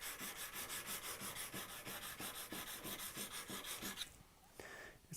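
A small bevel on a steel card scraper is sharpened with steady, rhythmic back-and-forth rasping strokes, about three per second, close and fairly quiet, then a brief pause and a softer rub.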